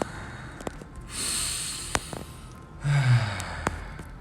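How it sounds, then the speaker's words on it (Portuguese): Two slow, deep breaths during a group relaxation session, each a long, airy inhale and exhale close to the microphone, with no talking. "Respirando fundo."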